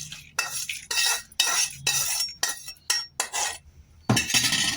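Spoon stirring tempering through curd rice in a bowl, a run of repeated wet, scraping strokes with brief pauses, close by and fairly loud, no voices.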